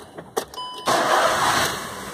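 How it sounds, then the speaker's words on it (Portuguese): A Volkswagen CrossFox engine cranking and catching after an electrical fault is fixed, a few clicks and a short chime before the motor fires up and settles into a steady, close idle. "E agora o carro vai funcionar perfeitamente"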